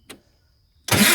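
An old tractor that has sat unused for six years, running on a cheap car battery, gives a short click and then the engine cranks loudly and abruptly.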